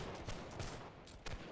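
Musket volleys crack out in the black-powder war game Holdfast: Nations at War. Several sharp reports land in quick, ragged succession over a constant rumbling battlefield din, and no one speaks.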